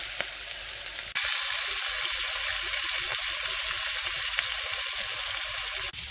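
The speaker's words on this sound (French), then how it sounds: "Et je viens les cuire dans une poêle avec de l'huile." Flour-dusted sardines frying in oil in a pan, a loud steady hiss of sizzling that starts abruptly and holds without break, close up, with no talk.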